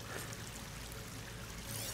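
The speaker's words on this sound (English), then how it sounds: "That waterfall must be coming right from somewhere." A waterfall in the video game Horizon Forbidden West, a steady broadband rush of falling water, continuous and moderately distant, with no voices.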